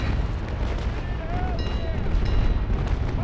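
Broadside cannon fire from sailing warships in the Naval Action game, a dense continuous rumble of booming shots under steady battle noise, with people talking over it.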